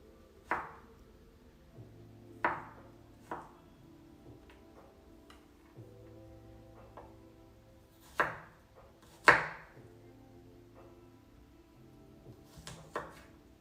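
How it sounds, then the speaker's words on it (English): A knife chops garlic on a board in a quiet kitchen, giving a few sparse, sharp taps spread out with long gaps between strikes. "Morty, it's garlic, you will not like it."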